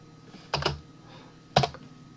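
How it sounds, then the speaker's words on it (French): Two separate clicks of a computer keyboard key being pressed, close and crisp, about a second apart in an otherwise quiet room. "J'enfonce la touche L de mon clavier."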